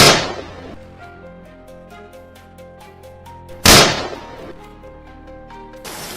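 A rifle fired in a rapid burst at a herd of charging wild boars on a slope, two sharp loud cracks with ringing decay, heard alone.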